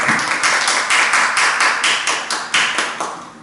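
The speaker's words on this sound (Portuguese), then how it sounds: "Vamos aplaudir o Senhor, que Ele merece toda a honra e toda a glória" Church congregation clapping in unison, a bright, loud, even rhythm of roughly three claps per second that keeps going without a break.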